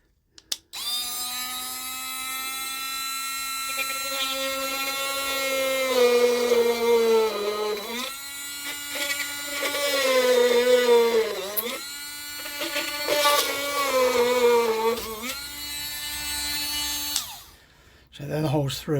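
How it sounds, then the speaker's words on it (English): An electric drill whines loudly and steadily, its pitch rising and dipping as it bores through several holes in a model railway baseboard for point motors, pausing briefly between them. "there'll be a bit of drill noise now"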